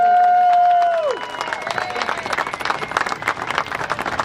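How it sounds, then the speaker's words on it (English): Crowd applause and scattered cheering at an outdoor protest outside the Serbian Embassy in Washington DC, breaking out after a held tone fades; steady clapping texture at moderate loudness, with some voices mixed in. "Let's give them a round of applause."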